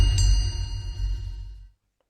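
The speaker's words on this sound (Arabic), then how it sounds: "انا عشان كده عملت الجرس" A meeting bell sounds in the video game Goose Goose Duck, a bright metallic ding that rings out and slowly decays over about a second and a half before silence.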